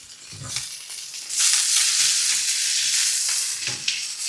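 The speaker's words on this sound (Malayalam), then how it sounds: "ഇപ്പം ഇഞ്ചിയും വെളുത്തുള്ളിയും മൂത്ത് വരുമ്പോൾ നമുക്ക് കുറച്ച് പച്ചമുളക് ആവശ്യത്തിന് കറിവേപ്പില" Ginger, garlic, green chillies and curry leaves fry in a hot pan for a chicken liver roast, a steady loud sizzle that swells into a dense hiss, with a few soft stirring knocks.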